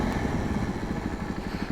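A Royal Enfield Classic 350 Chrome Bronze 2024 or Jawa Bobber 42 2024 motorcycle engine running steadily nearby, a dense low thumping rumble with a constant loud drone and no speech over it.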